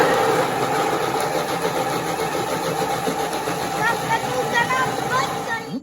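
A Thermomix whirs loudly at speed 7, blending cooked carrots and onion into baby puree, a steady motor drone with churning texture that winds down abruptly at the end.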